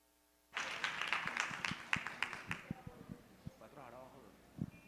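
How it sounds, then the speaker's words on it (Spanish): Audience applause at a business talk, starting abruptly after a brief silence as a burst of clapping from a small group, then thinning to scattered claps that fade out while a voice speaks faintly underneath. "Lo recibimos con un fuerte aplauso."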